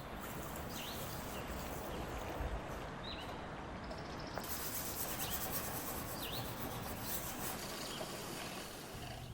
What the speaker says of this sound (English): I'll scrub each section with afterwash and No.